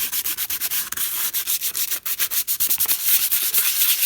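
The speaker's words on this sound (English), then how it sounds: "just go ahead and sand it first" Repeated sanding strokes on a shiny surface of a faux roll top desk, a steady rhythmic scratchy rubbing heard close up and alone, with brief pauses between passes.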